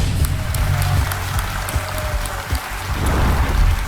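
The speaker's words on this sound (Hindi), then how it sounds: "तालियों के साथ मैं चाहता हूं कि उनका स्वागत किया जाए" A studio audience at the KBC quiz show claps to welcome the contestants, steady dense applause that fills the room for a few seconds and swells again near the end.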